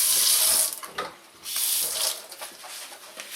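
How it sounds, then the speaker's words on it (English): Tap water runs hard into a sink being washed out with bleach, a loud close gush that eases off, surges again, then tapers to splashes and trickles. "Get that sink nice and coated with that bleach."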